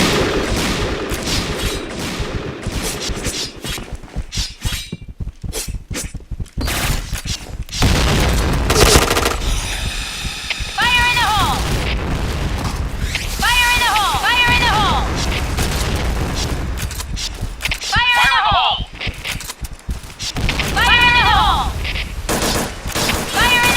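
Gunfire in a first-person shooter game, with bursts and single shots and booming impacts loud throughout, layered with game music or effect tones and brief talk.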